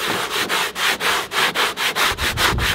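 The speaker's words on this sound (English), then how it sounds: "So I've got my little sanding sponge" A small sanding sponge rubbed back and forth over metal mirror clips on a vanity desk makeover, making about ten steady, close, rhythmic scratchy strokes.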